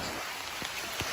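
Rain falls steadily as a broadband hiss, with a couple of louder drops landing close by, in an outdoor setting with no talking.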